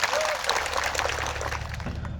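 A crowd at an outdoor political rally gives a burst of applause for police officers and home guards. The clapping is loud and close, with faint voices mixed in, and fades slightly toward the end.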